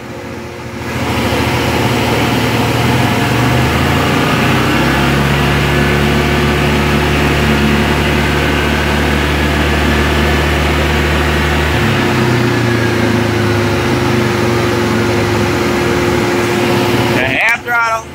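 A 2019 Yamaha Grizzly 700 EHS ATV engine held at quarter throttle, a steady droning hum that shifts slightly in pitch partway through, ending with a brief rustle.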